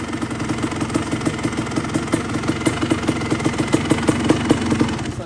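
A Kawasaki KX250 dirt bike engine idles close by, loud and crisp with a fast, steady two-stroke burble and rhythmic pulses. No voices are heard.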